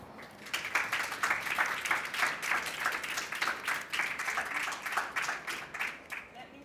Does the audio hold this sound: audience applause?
yes